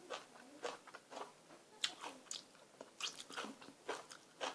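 Crisp long beans from a home garden are bitten while eating som tam, giving a close, quiet series of crunchy bites and chewing with an irregular rhythm and no talk.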